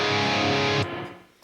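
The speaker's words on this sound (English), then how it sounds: "so this is dry crunch" A loud, crunchy overdriven electric guitar chord from a Line 6 Helix dry crunch preset rings, then is abruptly muted, leaving a fading buzzy hum.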